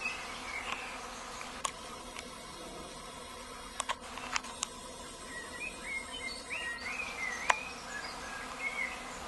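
A swarm of honeybees buzzes around a hive outdoors, a faint steady drone of many insects with occasional louder passes and a few sharp clicks, birds faintly in the background.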